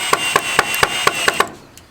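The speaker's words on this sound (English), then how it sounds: "Okay, screw that in. Don't get too close to the board edges." A screw being driven into a board outdoors, heard as a close, steady series of seven or eight sharp rhythmic ticks over a continuous whirring tone that trails off at the end.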